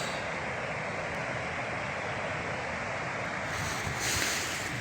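The River Spodden flows beneath a viaduct, a steady broadband rush of moving water that stays even and fairly loud throughout, heard alone without voices.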